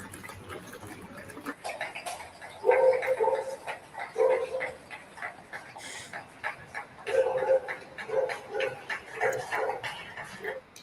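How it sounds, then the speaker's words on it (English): Several dogs bark in short bursts somewhere in a Singapore neighborhood, the yaps coming in two clusters amid people talking and distant clapping. "even the dogs are barking"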